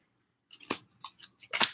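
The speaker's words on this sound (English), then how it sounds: "Just give me a minute while I shuffle." Tarot cards being shuffled by hand at a reading table, giving a few short, crisp papery riffles and snaps in separate bursts, close and fairly quiet, with no talking.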